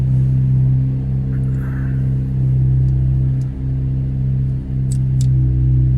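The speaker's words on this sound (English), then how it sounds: "That car is obnoxiously loud." A loud car on the street sends a deep, steady engine rumble that holds strongly through the whole stretch, close and droning, with faint higher clicks and no talking.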